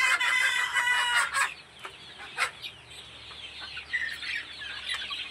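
Chickens clucking close by while they peck at feed, with a loud burst of several overlapping calls first, then scattered softer clucks and pecking.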